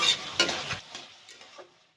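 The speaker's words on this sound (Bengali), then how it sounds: "তরকারি হয়ে গেছে, ঢেলে নিচ্ছি।" Cooked yardlong bean and potato curry is scraped out of a pan, a few close, soft scraping and stirring sounds with a light clink that fade away within two seconds.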